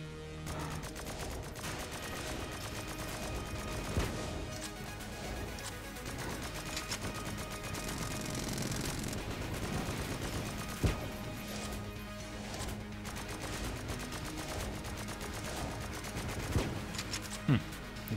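Constant rapid gunfire from the Boss Strafe gun in Enter the Gungeon, a dense stream of shots mixed with crashes and impacts, with a person talking over it throughout.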